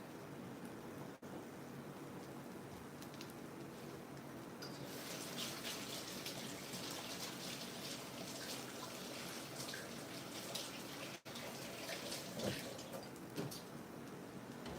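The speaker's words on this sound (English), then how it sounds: "Let me wash my hand." A kitchen tap runs steadily while hands are washed during dinner cooking, a continuous hissing stream that swells louder partway through, with no speech.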